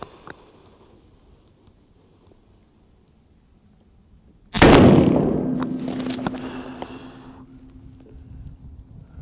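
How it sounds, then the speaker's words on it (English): A single sharp gunshot from a Savage 110 rifle cracks loudly after quiet, followed by a long decaying echo and ringing tail. "Let's take one shot now, see how we're looking elevation-wise."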